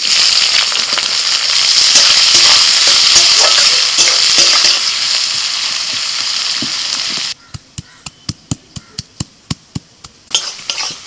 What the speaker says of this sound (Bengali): এদিকে পেঁয়াজটা ভাজা হয়ে গেছে